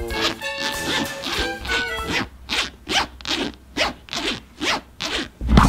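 A zipper on a homemade craft zipper pull is run back and forth repeatedly, giving a series of rhythmic, close, scratchy zips with short pauses between strokes.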